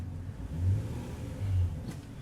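A Nissan Altima stuck in mud, its engine revving in two swelling surges with a mid-pitched whir as the wheels spin, close and fairly loud with no talk.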